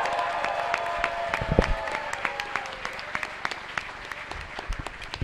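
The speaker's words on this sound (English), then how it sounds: "let's have a round of applause for Patrick Delahanty" A convention audience applauds at Dragon*Con, a dense patter of clapping with scattered sharp claps and some cheering, sustained and fairly close.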